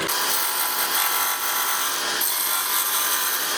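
A wood lathe with a gouge face turning a spinning workpiece throws chips, giving a steady, loud, close scraping and rasping cut that runs without a break and has no voices.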